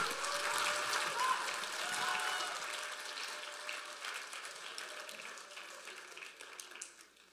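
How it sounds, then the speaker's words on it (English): Applause for the children at a church Advent Sunday service, a steady wash of clapping that is moderately loud at first and slowly thins out, with faint murmuring and a sustained tone underneath. "Can we give another round of applause to all of the kids?"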